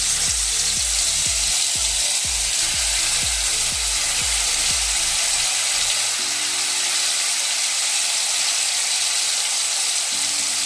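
Marinated chicken masala sizzles and crackles loudly in mustard oil in a wok on the stove, a dense, continuous frying hiss throughout, with some clattering stirring early on.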